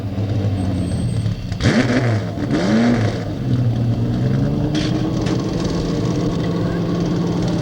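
A race car engine idling and rumbling at a 1981 pit stop competition on a speedway's pit road, with a revving sweep and a steady droning motor throughout.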